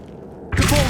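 An Incendio fire spell from Hogwarts Legacy bursts out halfway through, a sudden loud broadband whoosh that swells and sustains after a quieter, muffled lead-in.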